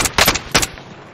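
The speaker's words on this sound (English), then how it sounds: "I'm hearing gunfire over there" Loud bursts of gunfire in Call of Duty Warzone crack out in quick succession, a rapid volley followed by another short burst, with no voices.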